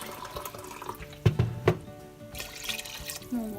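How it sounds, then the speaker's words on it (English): Water splashes and trickles into a pan while cooking chicken curry fried rice, with a few louder gushes and drips close by. "Just add a little bit of water."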